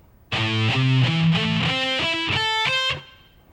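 A distorted electric guitar plays a quick technical shred lick, a run of about a dozen crisp picked and legato notes climbing in pitch, loud and close, alone and ringing briefly after the final note.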